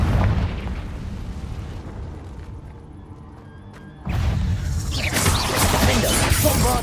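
Confringo blasting spell explosions in the Hogwarts Legacy video game, a loud rumbling burst to open, then quieter rumble, then a second heavy blast about four seconds in that keeps roaring to the end, with no talking.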